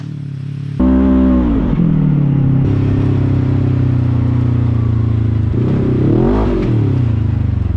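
A Polaris RZR Turbo S side-by-side lapping a makeshift dirt track, its engine roaring loud and close after a brief quiet start, holding a steady drone with rising and falling revs through the turns.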